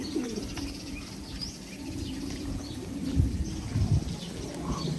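Low, soft cooing of a racing pigeon repeats over a steady outdoor rumble, with faint chirps and a brief flutter of wings.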